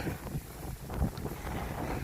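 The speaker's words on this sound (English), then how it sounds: "accept the fact that it's windy" Wind gusts outdoors on a windy day while fruit trees are being mulched, buffeting the microphone with a steady, rough rumble and no voices.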